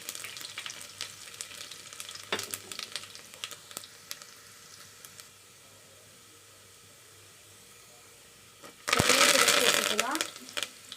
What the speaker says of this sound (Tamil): கடுகு நல்லா பொரிஞ்ச உடனே கொஞ்சமாக சீரகம் சேர்த்திக்கலாம்